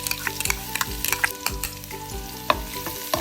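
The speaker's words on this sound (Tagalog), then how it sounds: "Garlic, igisa natin ito ng mga 30 seconds." Minced garlic sautés in a hot pan for pork igado, a bright continuous sizzle with clinks and scrapes of a spatula stirring at irregular intervals, close-up over a steady low hum, no one speaking.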